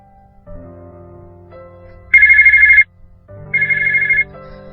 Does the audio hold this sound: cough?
no